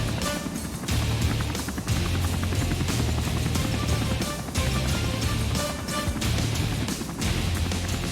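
A 5-ton Sea Lynx helicopter on the deck of a German Navy frigate at sea, with loud continuous rotor and turbine roar that briefly dips and surges several times, and heavy thumps and clanks of the landing mixed in.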